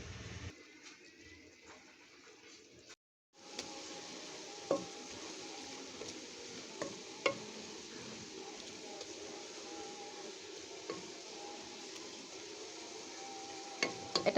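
Shredded cabbage is stir-fried Chinese style in a pan with a soft continuous sizzle and occasional scraping ticks of stirring, faint and close, broken by a brief moment of silence early on, with no talk.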